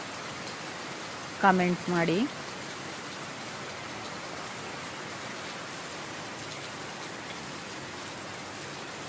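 Heavy rain falling steadily outdoors on farmland, a dense constant hiss lasting throughout, briefly interrupted by a short spoken phrase near the start.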